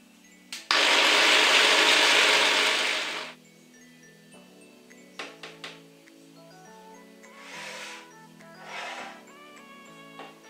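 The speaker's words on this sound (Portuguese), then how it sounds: "Então vamos moer." An electric blender grinding a cocktail in a loud, close burst of about three seconds, followed by quieter clinks and short whirring pulses.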